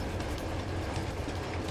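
A train rolls along the rails in the video game Uncharted 2, giving a quiet, steady rumble with faint rhythmic clatter from the wheels and no voices.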